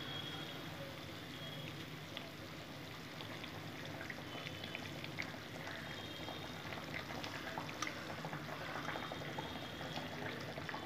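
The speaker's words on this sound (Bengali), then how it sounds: "বন্ধুরা ঝোল ফুটে গেছে, আমি এখন ভেটকি মাছগুলো ছেড়ে দেবো।" Pieces of soft Bhetki fish go into a boiling curry broth for kaliya, producing a faint, continuous bubbling and watery patter heard from close by with no speech.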